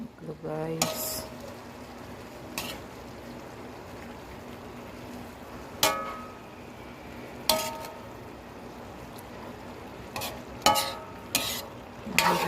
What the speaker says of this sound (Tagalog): kaya hinalo ko na yung nilaga kong itlog